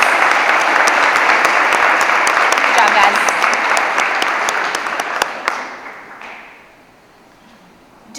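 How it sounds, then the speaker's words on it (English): An auditorium crowd claps loudly and steadily for the top 10 seniors at a school CTE awards program, then the applause thins and fades out while a voice speaks briefly. "Let's give them a round of applause as they head back to their seats."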